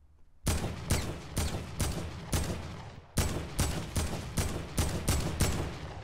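Turret gunfire in Fortnite rattles out in rapid bursts, a rhythmic run of sharp shots with one short pause partway through, moderately loud and with no talk.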